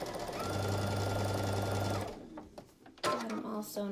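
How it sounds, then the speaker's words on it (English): A sewing machine runs a steady, close whir for about two seconds, stitching log cabin quilt block pieces straight down a 1/4 inch seam, then stops as a voice talks over quieter handling noises. "I'm just going to sew them together from top to bottom."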